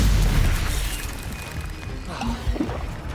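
A Stupefy spell cast in the video game Hogwarts Legacy: a loud booming magical blast with crashing impact, bursting up at the start and followed by further rumbling bursts and pops amid dense game noise.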